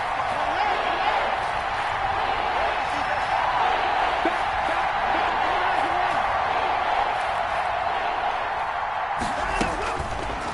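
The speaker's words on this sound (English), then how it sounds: "The crowd getting into it as we come up on a big third down" A football stadium crowd roars continuously on a third down in a Texans-Titans game, a dense, loud, steady wall of cheering with brief spikes near the end.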